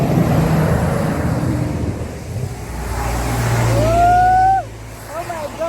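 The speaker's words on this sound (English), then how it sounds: "to hear the sound of the vehicles passing" Cars and trucks pass nearby on a busy road with a steady rumble, and a high brake squeal rises and cuts off. A voice talks in the background.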